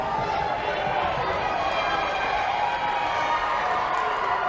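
Spectators roar at the Little League Baseball Southeast Championship between Alabama and Tennessee, a dense, sustained wall of cheering and shouting that stays loud throughout, with voices mixed into the din.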